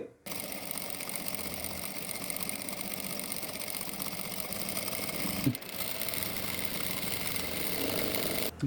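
A power sewing machine hems a fabric edge using a 6 mm spiral hemming clamp, its motor and needle producing a continuous close mechanical whir and rapid stitching chatter, briefly pausing midway before running on.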